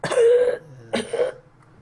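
A voice imitates a raspy, wheezing cough in two quick bursts, breathy and strained, close up with a brief pause between.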